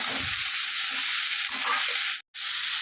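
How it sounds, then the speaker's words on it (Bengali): Sliced bitter gourd and potatoes crackling lightly in an oiled pan, a steady close sizzle with a few soft stirring scrapes and a momentary break near the end. "এবারে দিয়ে দেবো উচ্ছে আর আলু ভালো করে নাড়াচাড়া দিয়ে মিশিয়ে নেব একটু হালকা ভেজে নেব"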